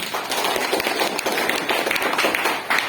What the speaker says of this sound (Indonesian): Kita tepuk tangan untuk Bapak Kadis.